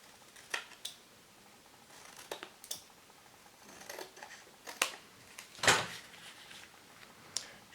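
Scissors snipping paper for a handmade mini album, a series of short, crisp cuts in irregular rhythm, close and fairly quiet, with one louder snip near the end and no talk.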